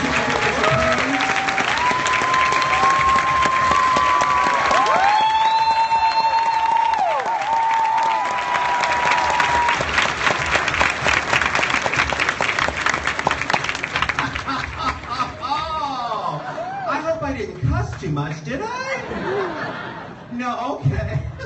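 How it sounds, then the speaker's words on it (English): Audience applause and chuckling laughter at the RuPaul's Drag Con 2016 keynote, a steady crowd roar with cheering that fades toward the end as talk resumes over it. "Give up a round of applause for Mary Wilson"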